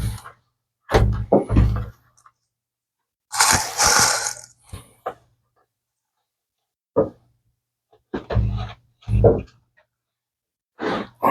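Clamps are tightened on a wooden charcuterie board in short separated bursts of clicking and ratcheting, close by, with breathy sighs between them and quiet gaps in between.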